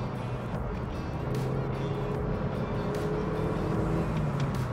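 A 2000 Saab 9-3 Viggen pulls hard under acceleration, its steady engine drone and road rumble holding close and fairly loud throughout with no voices.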